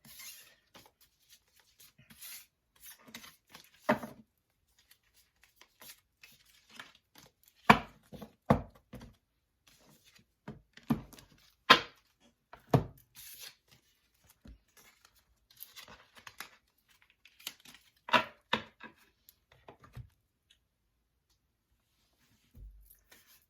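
A tarot card deck is split up and shuffled, giving a series of sharp, crisp card riffles and slaps in irregular bursts with quiet pauses, close and clear with no talking.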